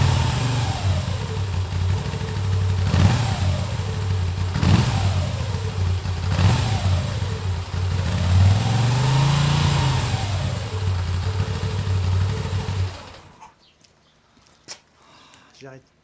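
A Moto Guzzi V7 Special motorcycle engine blips in several sharp revs over a steady idle, then rises and falls in one longer swell before cutting off abruptly into near silence.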